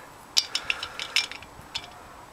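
A socket wrench works on the cylinder head of a Yamaha XS650 chopper, giving a few sharp, close metallic clicks and ratchet ticks spaced irregularly over a quiet background.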